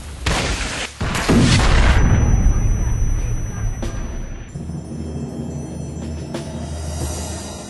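Heavy explosions and gunfire from the World War II shooter game Brothers in Arms: Hell's Highway, a loud booming blast in the opening seconds followed by rumbling decay, with a few sharper bursts trailing off.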